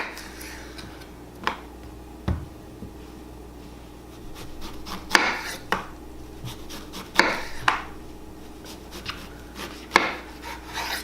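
A kitchen knife slices a zucchini into quarter-inch strips on a board, giving several sharp, separate chops spaced a second or two apart, close and moderately loud against a quiet background.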